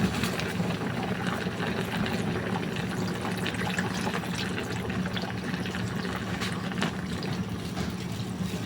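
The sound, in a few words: pouring second coconut milk into carp stew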